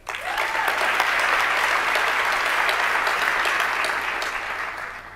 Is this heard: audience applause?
yes